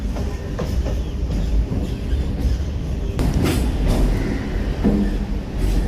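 An MRTS elevated train runs on its rails in Chennai, giving a steady loud rumble with rhythmic clickety-clack over the joints throughout, and no talk.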